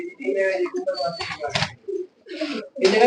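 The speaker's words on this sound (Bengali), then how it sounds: "এই জায়গায় সব ব্রিডার কবুতর" Breeder pigeons in a loft coo in soft, rolling bursts. Nearby voices talk over them in short phrases.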